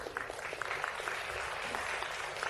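Symposium audience claps during a plenary talk, a fairly faint, even patter of many hands with a few sharper claps standing out.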